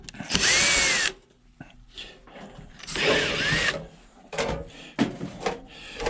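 A power drill pulls screws from a hot beverage dispenser being scrapped, giving two loud whirring bursts of about a second each, then shorter clicks and clunks of handling nearby.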